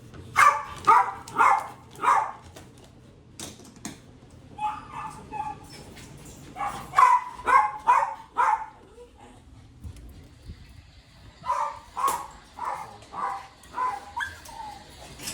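Dogs bark and yip in bursts inside a shelter kennel, sharp clustered barks repeating across the scene with brief pauses, fairly close and loud, faint whimpers between.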